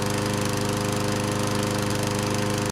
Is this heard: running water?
no